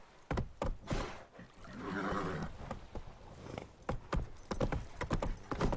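In The Witcher 3, the horse Roach trots with a run of close, crisp clip-clop hoofbeats, broken midway by a loud whinny, then continuing in an irregular rhythm.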